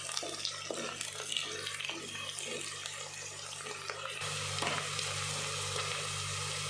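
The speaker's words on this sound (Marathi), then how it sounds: "कांदा आणि मिरची बरोबर अशी तळल्या जाते। छान थोडंसं 1-2 मिनिट याला परतून घेणार आहे।" Onion and green chili fry in a pan with a soft, steady sizzle and occasional stirring scrapes, close up; the frying grows louder and brighter partway through.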